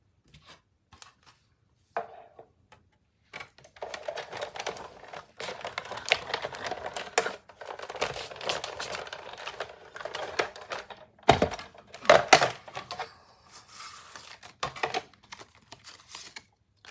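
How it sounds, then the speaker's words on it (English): A die cutting machine cuts paper flowers, giving a run of close, crisp thunks and crunching clatter with short pauses, fairly quiet and with no talk. "we've got one more to die cut after this, and then all 6 flowers are also cut out"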